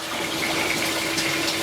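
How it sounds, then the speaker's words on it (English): Hot water pours steadily back into a mash tun in a home-brewing shed, a continuous gushing fill with a pump-like hum underneath, close and unbroken. "So just refilling the mash tun."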